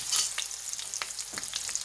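A Big Mac beef patty sizzles and crackles in a hot pan, a close, hissing fry with scattered pops and scraping stirs.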